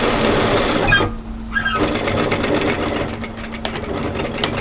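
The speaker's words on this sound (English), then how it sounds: "I'm just going to run a couple of tacking stitches directly through the stitch line" A sewing machine runs a couple of tacking stitches along a seam of a knit sweater, a close rapid mechanical whirring with a brief pause before it resumes.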